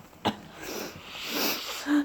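A young girl lets out a short, sharp sneeze near the start, followed by breathy sniffing and a brief voiced sound at the end.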